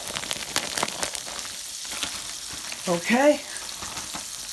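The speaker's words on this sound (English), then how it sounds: "Now we're going to let these babies fry up about 5 minutes on each side" Chicken legs fry in hot oil with a steady crackling sizzle throughout, while a voice speaks briefly in between.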